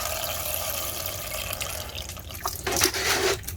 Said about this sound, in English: I'm just gonna give everyone more water